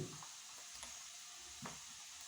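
Onions in hot oil, with asafoetida being added, give a faint, even sizzle close by, with a couple of soft scraping stirs.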